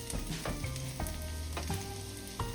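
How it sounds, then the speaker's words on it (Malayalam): Chopped garlic, ginger and celery fry in sesame oil in a pan, a steady close sizzle with light stirring scrapes, with no voices. "പാൻ വെച്ച് 2 ടീസ്പൂൺ നല്ലെണ്ണ ഒഴിച്ച് അരിഞ്ഞു വെച്ചിരിക്കുന്ന വെളുത്തുള്ളി, ഇഞ്ചി, സെലറി"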